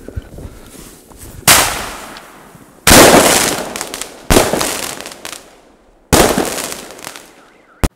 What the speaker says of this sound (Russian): Салюты и фейерверки уже давно стали неотъемлемой частью Нового года